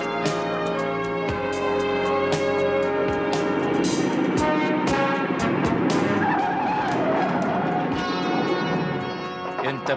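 A car drives past with its tires squealing in repeated screeches over a loud engine roar, close and continuous for several seconds.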